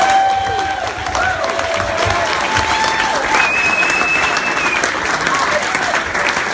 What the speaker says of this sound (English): Guys, round of applause for Miles, everybody.